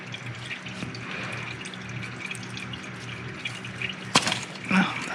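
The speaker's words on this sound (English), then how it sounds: "While the oil's draining" Engine oil from a BMW E39 M5 draining into a pan beneath the car, a continuous close liquid trickle and patter with a few louder knocks near the end.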